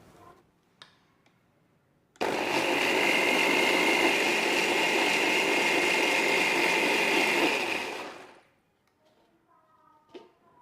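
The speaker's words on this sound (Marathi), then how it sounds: "हे आपल्याला मिक्सरला चांगलं फिरवून घ्यायचं आहे." A kitchen mixer grinder whirs loudly at a steady pitch for several seconds, blending sorghum flour batter, starting abruptly and winding down, with faint clicks before and after.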